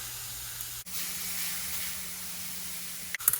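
An ahi tuna steak sears in a pan after flipping, giving a steady close hiss and sizzle across the clip with brief clatters at the start and finish.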